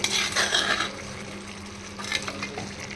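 Tamarind curry with curry leaves is stirred in a clay pot, giving short scraping and clinking strokes of a ladle against the pot over a faint bubbling sizzle, close and fairly loud.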